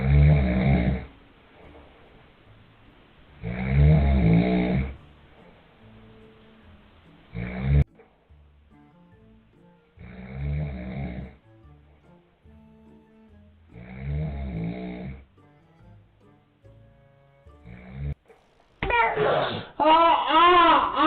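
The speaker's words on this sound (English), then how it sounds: "the dad was snoring" A father snoring heavily in his sleep, loud rasping breaths repeating every few seconds, with a baby's babbling cry rising near the end.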